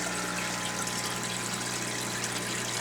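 Water drains steadily out the back of betta barracks through holes in PVC and down into a sump, a continuous broadband gush with a low pump hum beneath, even and unbroken throughout.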